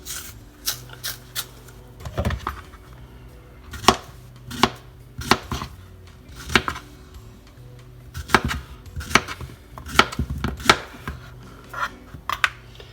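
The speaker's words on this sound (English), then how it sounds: "For the tostones, you want to do 1/2-inch cuts." A knife chopping plantain into half-inch pieces on a cutting board, with sharp irregular thuds and clicks coming in small clusters, close and fairly loud with quiet gaps between them and no talk.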